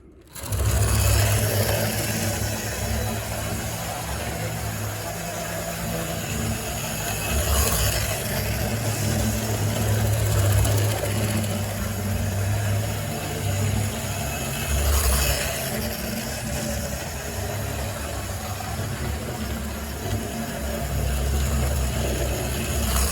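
A 1950s Hornby clockwork model train runs steadily on its track, giving a continuous close whirring and rattling mechanical drone with no talk.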